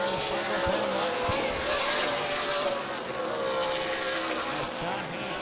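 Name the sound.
race cars racing at Dixie Motor Speedway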